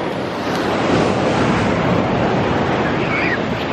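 Ocean surf rolling onto the shore at Laguna Beach at sunset, a steady close wash of breaking waves with wind rumbling across the microphone and no talk.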